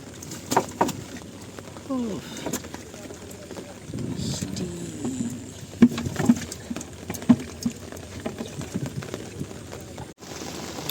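Heavy rain pours onto the Padma river, a steady pattering hiss with scattered knocks and splashes from a small boat, and faint voices come and go.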